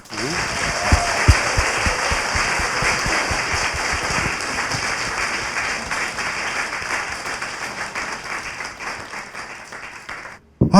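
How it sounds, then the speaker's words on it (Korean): A live audience applauds at a Korean political talk show taping, a dense sustained wave of clapping that runs loud for about ten seconds before tapering slightly and cutting off. "박수 한번 주세요."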